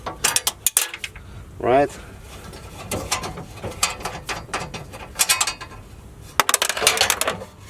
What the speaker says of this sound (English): You'll see a bunch of screws around. Undo them all,